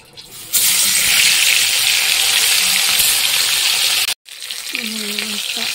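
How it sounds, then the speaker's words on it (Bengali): Fish frying in hot oil in a karahi over a freshly built clay stove: a loud, steady broadband sizzle starts abruptly, holds for several seconds, cuts out briefly, then resumes more softly. "তেলটা গরম হয়ে গেছে, মাছগুলো ছেড়ে দেবো।"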